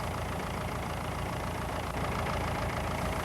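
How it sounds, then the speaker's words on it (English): Rotary mower engine idling after working under load, a steady, close, continuous rumble with no change in pitch and no voices. "Let it idle a few minutes to cool down gradually."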